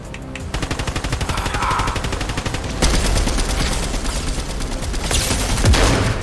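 Rapid, sustained automatic gunfire in a Star Wars-themed shooter game, loud and close, firing in long continuous bursts with brief shifts in intensity and no voices over it.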